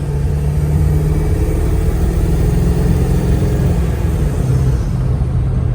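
A 1999 Ford F-250 7.3L Powerstroke diesel pickup engine idles and rumbles continuously, steady and loud, with a low, even drone and no voices over it.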